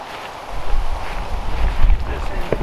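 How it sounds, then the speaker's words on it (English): Strong wind buffets the microphone in rumbling gusts at a backcountry campsite, loud and close, with rushing air throughout. "Of course it is incredibly windy right now,"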